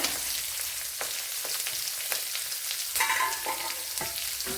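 Onion, ginger and green chillies fry in a pan for brinjal thoran, giving a continuous close sizzle broken by several sharp stirring scrapes and spoon taps. No voices.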